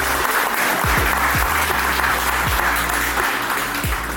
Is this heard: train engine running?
no